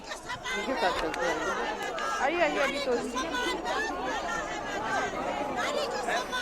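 A large, noisy crowd packs the street around Yogi Adityanath's padyatra, with steady chatter and overlapping voices forming a dense hubbub, and a reporter talking over it throughout.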